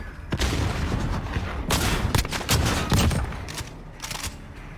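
Shotgun fire in an online 2v2 gunfight shooter game, a series of sharp, loud blasts in quick irregular bursts over dense background noise, close and punchy.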